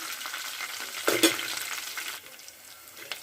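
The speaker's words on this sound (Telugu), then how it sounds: "కొంచెం 2 రెబ్బలు కరివేపాకు వేసుకుందాం." Curry leaves fry in hot oil in a pan for ginger upma, giving a steady sizzle with a louder crackling burst midway, then settling back to a softer hiss, close and without voices.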